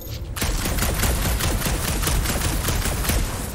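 Rapid blaster fire from the Guardians of the Galaxy video game, a loud, dense burst of repeated shots that starts abruptly and keeps rattling on without pause for several seconds.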